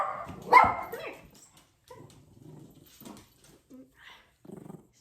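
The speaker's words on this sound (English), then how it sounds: "Let him finish his barking." A small dog barks sharply in a close burst, then lets out low growls and short whimpering yelps while a person speaks softly over it indoors.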